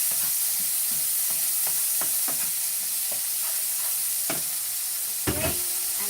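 Frozen peas, corn and paprika stir-fry for fried rice with a constant hissing sizzle, punctuated by regular scraping and tapping stirs in the pan and a louder clatter near the end.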